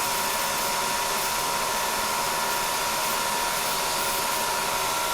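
A CNC Bridgeport mill runs at 4,200 RPM, pecking a small, deep hole in steel with a small drill bit under mist coolant, giving a constant, even hissing whir that holds unchanged throughout, close and moderately loud.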